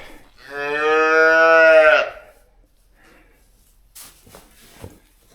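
Cow mooing during calving, one long loud drawn-out moo up close lasting about a second and a half, followed by quiet with a few faint rustles and soft noises.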